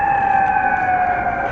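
A loud fire truck siren wails up close, a sustained piercing tone sliding slowly downward over a rumbling background.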